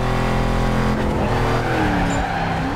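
In the video game NFS Carbon, a race car spins out after too much throttle, its engine roaring loudly with tires squealing and skidding across the short burst.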